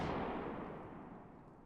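A fireworks display going off along a neighborhood street in the Fireworks Mania video game, heard as a broad rumbling boom that fades away gradually over the clip.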